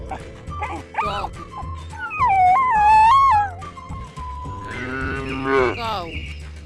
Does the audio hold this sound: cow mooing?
yes